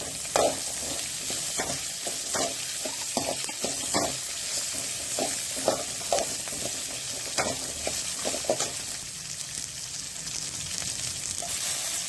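Ginger, garlic, onion and two green chillies fry in hot oil for curry leaf chutney, a steady sizzle broken by repeated sharp crackles and stirring scrapes, close and fairly loud with no voices.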